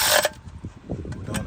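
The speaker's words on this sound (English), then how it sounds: "Just going to tighten them up a bit." Nuts on the plastic oil level sensor of a BMW 1 Series being tightened by hand: a short hissy burst at the start, then soft scraping and light clicking from close by.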